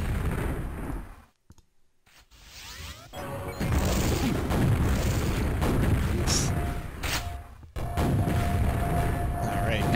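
Grenades exploding in the arena shooter Organ Grinder, several loud booming blasts and crashes with clicking game effects between them, a short quiet gap early on and sharp cut-offs between bursts.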